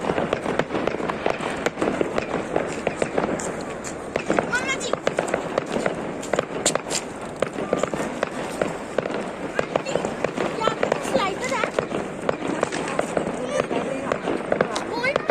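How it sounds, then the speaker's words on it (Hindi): Rapid crackling bursts of New Year firecrackers and fireworks pop continuously, dense and overlapping, with people talking in the background, some fireworks going off on a hill opposite. "वो सामने पहाड़ है, उधर भी चल रहे हैं पटाखे।"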